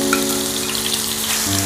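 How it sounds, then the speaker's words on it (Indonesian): Blended spice paste for lontong balap broth sizzles and crackles steadily in hot oil throughout, with a constant low hum beneath the frying. "Sekarang saya akan mulai menumis bumbu halus yang sudah di blender untuk kuah lontong balapnya."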